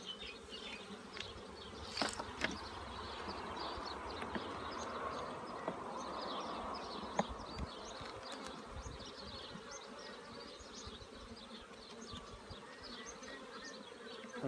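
Honey bees buzz steadily around an opened hive as frames of honey and pollen are inspected, a dense continuous hum with a few brief knocks of frames being handled, no talking.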